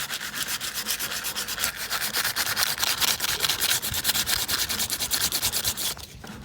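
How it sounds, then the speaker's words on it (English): Sandpaper rubs over a gloss black car rim in fast, even back-and-forth strokes, close and continuous for several seconds before stopping. "So I'm gonna sand these down nice, and I've been trying to sand along the edges."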